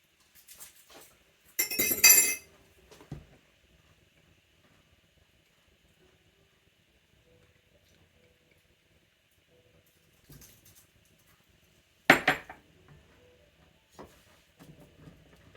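Ingredients for quick cheese bread being mixed in a bowl: two separate bursts of clinking and scraping a few seconds long, with long quiet stretches between them and no talking.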